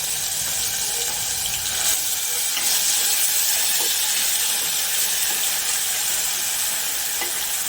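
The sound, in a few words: tomato and chavanu gravy added to sizzling pan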